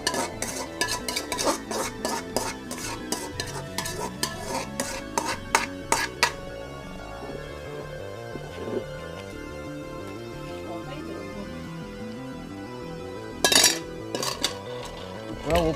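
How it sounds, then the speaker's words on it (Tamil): A spoon stirs separately made gravy into nombu kanji in a metal pot, a quick run of scraping clinks that fades to a quiet simmer, then another short burst of stirring. "இப்போ நான் இதில் தனியாக பண்ண கிரேவியை ஆட் பண்ணுறேன்"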